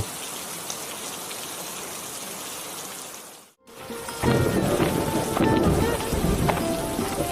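Steady rain falls with a dense patter, fading to a brief near-silence before returning louder and closer, with heavier drops and splashes on surfaces.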